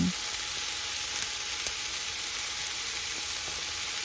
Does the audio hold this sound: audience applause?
no